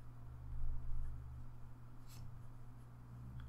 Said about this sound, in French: Comme vous le voyez, il écrit vraiment très bien ce stylo.